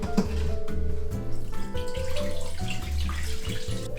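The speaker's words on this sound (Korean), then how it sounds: "지금 딱 간간하니까 소금물을 빼고 몇 번 헹궈낼게요" Running water pours steadily over salted radish cubes being rinsed for kkakdugi, a continuous splashing flow with faint clatter, close and fairly loud.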